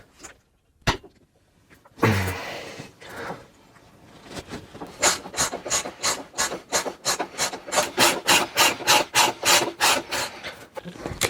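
The front axle bolt of a Yamaha FZ6 Fazer motorcycle is unscrewed with a sharp initial crack, then a rhythmic rasping, ratchet-like grind that repeats steadily and grows louder and faster, close up with no talking.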